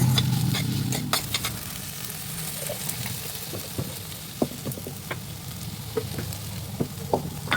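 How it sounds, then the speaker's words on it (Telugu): Potatoes with turmeric fry in a pan, a low steady sizzle broken by frequent sharp clicks and scrapes of a spatula stirring them. "ఒకసారి బాగా ఫ్రై చేసేసుకోవాలి చూడండి ఇవి పొటాటో మొక్కలు బాగా వేగుతుంది కదా"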